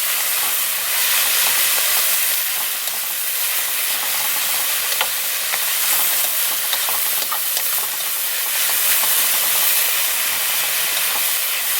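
Green vegetables cooking over high heat on a gas stove, a loud, dense, hissing sizzle with steady crackling throughout and no talking.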